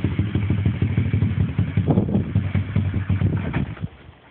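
A small pit bike engine runs close by, its exhaust putting steadily with uneven revs and clatter as a learner works the clutch, with wind buffeting the microphone, before the engine note drops away at the end.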